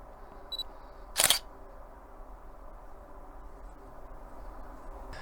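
A single sharp camera shutter click, preceded by a faint short beep, in an otherwise quiet outdoor meadow at night during light painting of a combine harvester.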